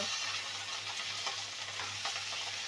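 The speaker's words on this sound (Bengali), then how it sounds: "সিমগুলো দিয়ে এবার নেড়ে ছেড়ে দেব" Broad beans stirred in a frying pan, heard as a soft, steady sizzle with light scraping stir strokes, fairly quiet and without voices.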